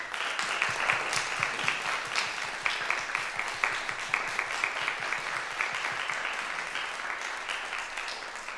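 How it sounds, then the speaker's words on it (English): An audience at a student music recital applauds, dense, even clapping that holds steady for the whole stretch and never breaks. "can we give them a big round of applause?"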